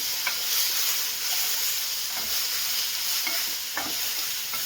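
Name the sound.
green chillies and spices frying in a pan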